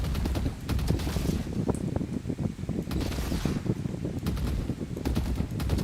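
Vandal rifle in the video game Valorant fires in repeated bursts of rapid, punchy shots, with short pauses between volleys, loud and close throughout the clip.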